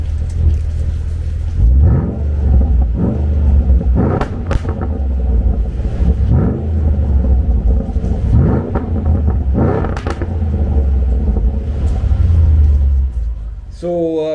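A Land Rover LR4 engine with its resonator removed revs repeatedly in deep, loud bursts, a throaty exhaust rumble rising and falling several times at close range.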